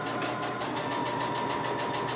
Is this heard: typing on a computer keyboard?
no